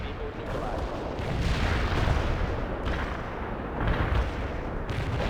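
Continuous artillery bombardment in the strategy game World in Conflict: dense rolling booms and crackling fire, steady and loud throughout, with periodic swells of heavier impacts.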